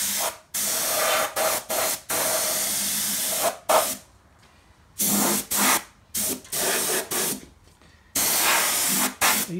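A spray gun paints a vehicle chassis in loud hissing bursts, some long and some short, separated by near-silent pauses, with occasional faint voices in the gaps.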